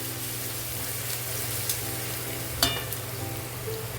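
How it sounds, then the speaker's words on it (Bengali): Ginger garlic paste fries in a pan with a steady sizzle, a continuous crackling hiss with a couple of sharper clinks from a spatula partway through. "আদা রসুনের ভাজা ভাজা গন্ধটা ভালোই আসছে"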